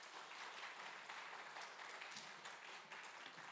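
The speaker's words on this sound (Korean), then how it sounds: "우리 박수로 환영하도록 하겠습니다." Faint, distant applause from a church congregation welcoming a pastor before a Sunday sermon, a soft, even patter of many hands sustained throughout.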